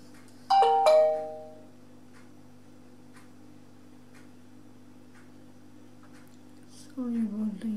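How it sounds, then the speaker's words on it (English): A cell phone gives a short bright chime near the start, then fades, leaving a low steady hum in a quiet room before a voice begins at the end. "sorry about the cell phone."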